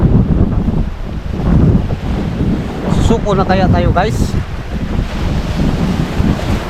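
Strong wind at sea roars steadily across the microphone over surf and a fishing boat, while someone talks through most of it.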